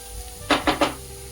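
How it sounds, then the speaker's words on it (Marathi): Chopped onion fries in a pan, heard as three quick spatula scrapes in close succession over a faint background sizzle. "आता थोडासा कांदा परतून झाला आहे"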